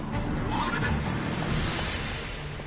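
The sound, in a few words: horse Roach neighing and galloping, from video game Witcher 3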